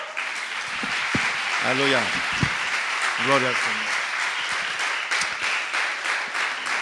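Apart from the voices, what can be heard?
church congregation applause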